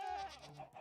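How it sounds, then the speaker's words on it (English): Goats bleat in a Minecraft-style survival game, a short pair of nasal calls up close, with a soft low tone underneath and no talking. "Oh, the goats."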